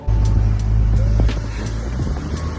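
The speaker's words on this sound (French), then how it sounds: "la plupart des plages, tu peux rouler en 4x4 dessus" A 4x4 vehicle driving along beach sand near Perth, Australia, its engine rumbling loud and close, then easing off into a lower steady drone.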